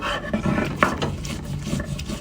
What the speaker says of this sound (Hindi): तो मैं फ़िलहाल सिल पे पीस रही हूँ मिर्चें और लहसुन।